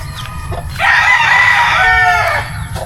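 A tethered rooster crows loudly and close, one long drawn-out call lasting under two seconds, with soft clucking and farmyard background around it.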